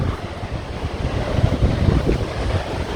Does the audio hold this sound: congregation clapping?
no